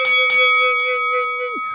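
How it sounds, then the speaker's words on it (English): A notification bell sound effect rings out with a bright struck ding and a couple of quick repeated strikes, leaving a long clear tone that sustains and then drops away abruptly, loud and close. "make sure you hit that notification bell"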